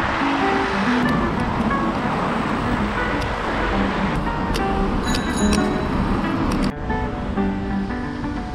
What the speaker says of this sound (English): I hope you can hear me with all this traffic going on behind me.